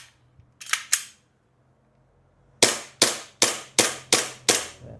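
A Glock 18 airsoft pistol with metal slide and polymer frame fires in semi-auto: two sharp cracks, a pause, then six evenly spaced snapping shots, loud and close with no talk.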